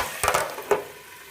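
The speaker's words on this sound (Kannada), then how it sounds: "ನೋಡಿ ಕಾಳೆಲ್ಲ ಫ್ರೈ ಆಯಿತು ಸ್ವಲ್ಪ ಎಣ್ಣೆಲಿ" Legumes frying in a little oil for upma, with a brief close burst of sizzling and two quick stirring scrapes before fading to a low hiss.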